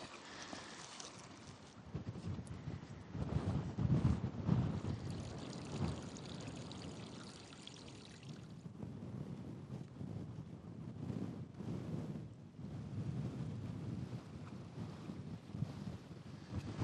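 A savage wind blasts across a frozen mountain near the snow line, buffeting the microphone in loud, roaring gusts that swell and ease unevenly over a long stretch, with no voices.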